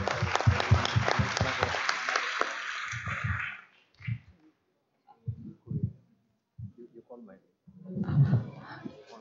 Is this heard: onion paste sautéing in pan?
no